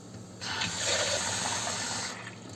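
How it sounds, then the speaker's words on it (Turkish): Water pours steadily into a pot topped up over white vinegar, a close gushing fill of about two seconds that rises and then tapers off, with no voices. "Bunun üzerini suyla dolduruyoruz."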